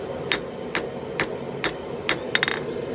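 Hammer blows ring out on a scrap pile Damascus steel billet being forged, six sharp metallic strikes at a steady pace, the last a quick double, over a low hum of shop noise.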